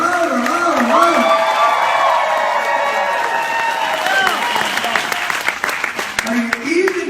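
An audience claps and cheers for GJ Reynolds at a company event, with dense applause that thins into scattered claps while a voice speaks over it.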